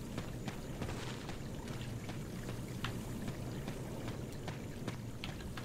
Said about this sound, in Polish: A to tą wodę słyszę, dobra.